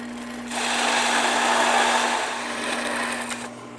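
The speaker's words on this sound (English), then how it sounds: "I'm going to drill a hole through in between them so that it's a half on each side" A drill press bores a hole through clamped wood pieces, set up to split the hole half into each side. Steady close whirring and cutting noise runs for about three seconds with a constant motor hum underneath and no talking.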